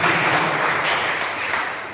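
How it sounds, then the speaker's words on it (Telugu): A group at an ashram gathering for Ravi Teja's birthday claps together in a dense, steady burst that holds evenly for a couple of seconds and starts to taper at the end. "అందరం గట్టిగా చప్పట్లు కొట్టి"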